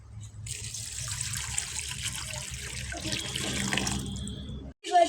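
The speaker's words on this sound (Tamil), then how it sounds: "தேவையான அளவு தண்ணி ஊற்றிக்கலாம்" Water pouring steadily into a pot, a continuous rushing splash that thins toward the end before a short clunk.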